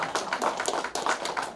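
Audience applause at a Korean singers' association performance and inauguration ceremony, a brief burst of dense, uneven clapping from a crowd, fairly close and continuous.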